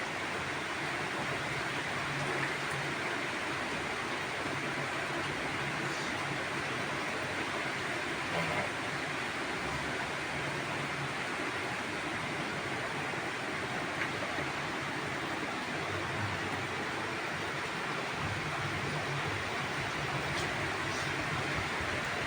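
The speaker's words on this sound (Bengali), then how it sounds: "বৃষ্টি অনেক বৃষ্টি আসতেছে" Heavy rain falls steadily, seen from a home balcony, as a dense, even hiss that fills the whole stretch without a break.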